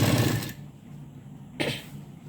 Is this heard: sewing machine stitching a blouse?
yes